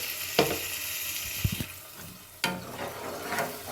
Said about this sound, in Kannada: ಒಂದು 1/4 ಕಪ್ಪಷ್ಟು ನೀರು ಹಾಕ್ಕೊಳ್ಳಿ.